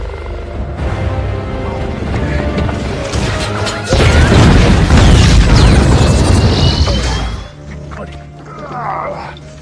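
A helicopter blows up in an action movie scene, a heavy booming blast with crashing debris over a dramatic score, loud and sustained before tapering into rumbling aftermath.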